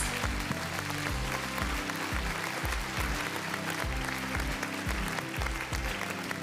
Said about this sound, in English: Ladies and gentlemen, let's give them another round of applause.